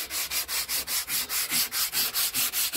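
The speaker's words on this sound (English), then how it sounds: "all I'm basically doing to start is just taking a sanding pad and I'm just rubbing down inside at boot" A sanding pad rubs down the inside of a car boot in about thirteen steady back-and-forth strokes. Each stroke is a loud, close, even scrape, and the strokes repeat in a regular rhythm with no voices.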